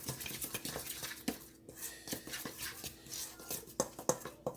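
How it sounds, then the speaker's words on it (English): A spoon stirs ingredients in a pot for Jamaican beef patties, making quiet, irregular clinks and scrapes against the metal with soft shuffling between strokes, close by and alone. "Stir this up in here like this right here."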